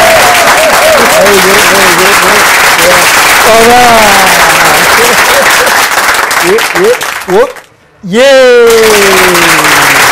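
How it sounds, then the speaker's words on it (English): Applause for comedian Augustin on a talk show, a loud sustained roar of clapping from a crowd beneath a voice shouting and cheering in long sliding calls, cutting out briefly near the end before resuming. "With a round of applause"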